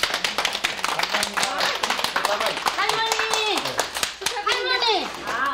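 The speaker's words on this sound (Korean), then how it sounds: "박수 한번 쳐주시겠습니까?" Audience clapping for an elderly grandmother receiving an award, crisp close handclaps in an uneven rhythm mixed with lively talking and children's voices throughout.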